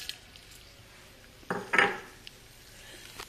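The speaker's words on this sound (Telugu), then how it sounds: "నూనె కాగిపోయింది. పోపు దినుసులు అన్నీ వేసేస్తున్నాను" Whole spices tempered in hot oil in a pan for a taro root curry, giving a short burst of sizzling and crackling with light clinks of a pan, close and moderately loud, with no talk.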